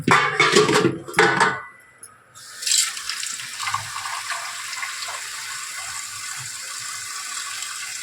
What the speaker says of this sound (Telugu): ఫస్ట్ ఇంకా వాటర్ పట్టుకోండి.